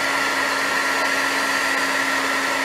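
A heat gun drying wet watercolor paint gives a steady, loud blowing roar with a constant motor hum, running unbroken throughout with no talking.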